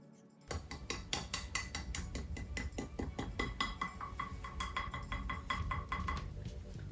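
Crisp crunching and cracking of a chocolate chip cloud cookie's crispy edges being broken, a rapid series of sharp close snaps that fade out after about six seconds.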